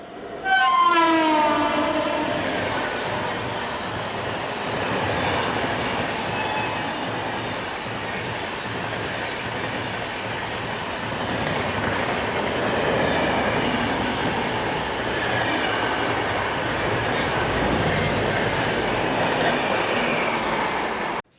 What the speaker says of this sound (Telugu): హౌరా బెంగళూరు ఎక్స్ప్రెస్ అండి.